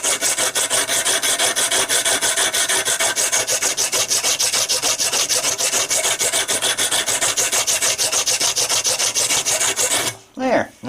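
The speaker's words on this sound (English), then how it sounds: "Then I just grab a piece of shop roll and just give it a little shoe shine." Shop roll rubbed briskly over a freshly filed knife blade, a steady close rasping scrub of fast even strokes that runs without pause for about ten seconds, then stops abruptly with a couple of faint handling sounds.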